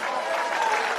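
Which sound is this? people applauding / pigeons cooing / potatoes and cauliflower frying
people applauding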